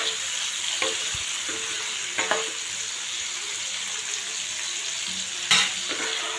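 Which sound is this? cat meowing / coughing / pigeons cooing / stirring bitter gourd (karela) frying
stirring bitter gourd (karela) frying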